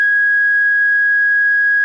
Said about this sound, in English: this thing is deafening, and it emits a constant tone